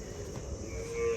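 A cow mooing on a cattle farm in Ranasan, a single close, low, drawn-out moo lasting about a second.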